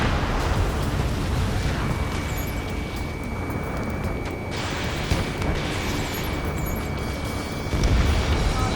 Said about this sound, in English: Vehicle confirmed destroyed